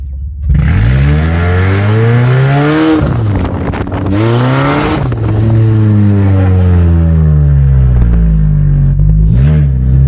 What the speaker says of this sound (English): Should we try a fucking First gear pull.